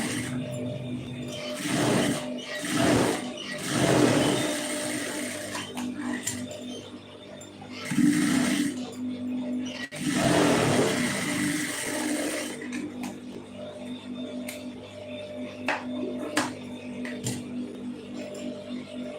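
A sewing machine stitches a quarter-inch double-folded hem on a plain blouse, its motor whirring steadily with louder bursts of rapid needle clatter between brief pauses, close and with no talking.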